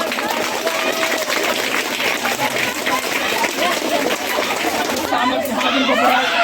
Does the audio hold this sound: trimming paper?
no